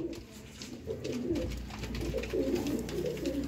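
A teddy pigeon, a female held in a hand, gives repeated soft throaty coos close by, in a low rolling rhythm over a faint background hum.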